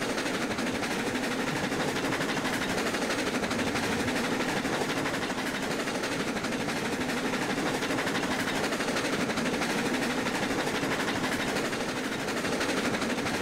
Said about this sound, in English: Well, one thing about this train, we can't speed.